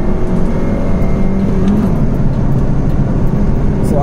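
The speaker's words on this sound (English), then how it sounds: "So I'm just revving it" A loud single-cam VTEC car engine revs steadily, heard from inside the hatchback, the drone holding and shifting slightly in pitch, with no voices.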